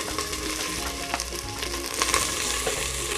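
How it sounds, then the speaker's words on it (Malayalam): Onions frying in coconut oil for Kerala-style meat rice, a steady close sizzle with crackling pops and occasional stirring scrapes throughout, no voices. "ഇനി നമുക്ക് ഈ ഒരു സവാള വെളിച്ചെണ്ണയിലേക്ക് ഇട്ട് കൊടുക്കാം."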